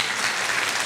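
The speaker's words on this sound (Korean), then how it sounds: "이런 때는 방송실에 박수 한번 쳐주시면 돼요." A church congregation at an anniversary mission gathering gives the broadcast room a short burst of applause, a brief, dense wash of clapping close to the microphone.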